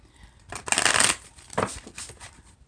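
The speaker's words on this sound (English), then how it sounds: "let me get you one more shuffle" Tarot cards being shuffled close up: a riffling burst followed by a shorter second riffle and soft card handling, no talking.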